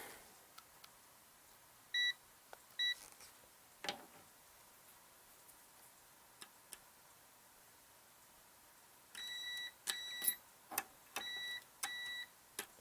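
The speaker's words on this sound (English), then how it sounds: "Here's my meter. We'll just use the beeper." Multimeter continuity beeper checking fuses on a Bride of Pinbot pinball power board: a few short paired beeps early, then a run of repeated steady tones near the end, close and clear over faint ticks and clicks.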